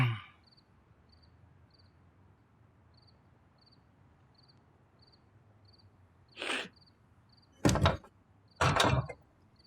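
A door is pushed shut indoors with several firm thuds and knocks spaced over a few seconds, heard against a quiet room with faint chirping crickets and a steady high electronic beep.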